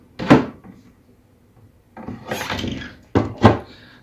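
A kitchen cabinet door swings and knocks: a wooden thunk, then a longer rattling movement, then two quick closing thuds, close and clear with no talking.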